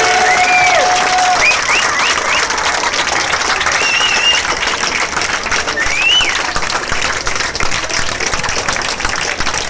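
Loud crowd applause mixed with cheering and whistles at a live concert in Trieste, a dense continuous wash of clapping with sharp whistle tones rising above it near the start and middle.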